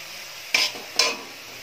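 Fried eggplant tipped into a pan of chickpea greens (cholar shak), giving two short bursts of sizzling and stirring scrapes, close and moderately loud, over a quiet background.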